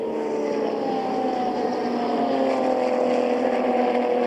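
A Radical race car engine held steadily on the throttle at Paul Ricard during the European Masters, a smooth, continuous high-pitched drone with a slowly falling tone, loud and unbroken with no talk.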